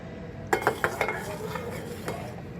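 A utensil scraping and stirring thick condensed milk in a pan, a run of sharp clinks and scrapes close by, then quieter scraping, with no voices.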